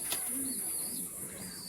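Pigeons coo in a loft of imported Teddy, Kamagar and Golden breeds, a soft low burble rising briefly at mid-clip over steady background hiss, with faint chirps above.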